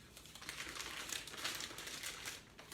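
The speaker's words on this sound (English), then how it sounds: "Just gonna tape this one up a little bit." Packing tape being pulled and pressed onto a shipping package, a close, busy crackle of stretching and crinkling that runs on with short rhythmic bursts.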